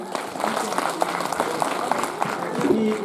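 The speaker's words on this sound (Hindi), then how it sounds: "कृपया तालियां बजाते रहे।" An audience applauds steadily at a government senior secondary school's annual function, producing a dense crowd clapping that runs throughout while a voice speaks over it.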